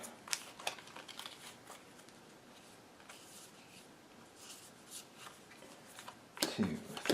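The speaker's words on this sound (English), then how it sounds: "I'll shuffle these up." A deck of playing cards for a solo Legendary Marvel Secret Wars game gets shuffled in soft, scattered riffles and ruffles, quiet and close, ending with a louder handling burst.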